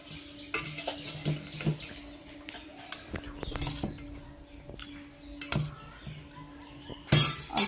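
Serving greens and curry gravy onto a plate with a ladle: scattered clinks and scrapes of metal on dishware, soft and close, ending in a sharper clatter.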